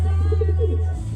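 A pigeon coos close by, a brief low rolling call over a steady low hum.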